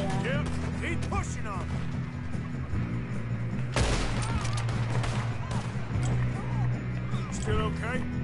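Gunfire in Red Dead Redemption comes as one loud crack midway, amid busy game ambience with chirping birds and someone talking throughout.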